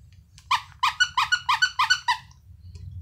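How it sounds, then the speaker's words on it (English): Squeaker toy squeezed about eight times in a quick, even rhythm, each squeak sharp, close and distinct against near silence. "and it's a squeaker"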